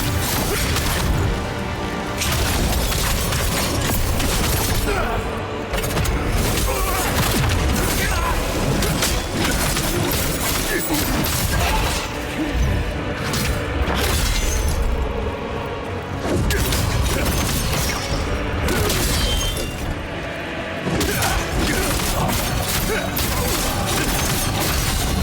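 Boss explosions in The First Berserker Khazan, a sustained loud barrage of crashing blasts and booms that runs continuously, dense and near, over a game soundtrack with no pauses.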